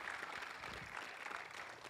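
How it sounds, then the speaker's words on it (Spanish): A church congregation claps steadily after a blessing at a year-end service, a soft, even wash of applause with no break, heard from some distance in the hall. "Give a big applause to the Lord."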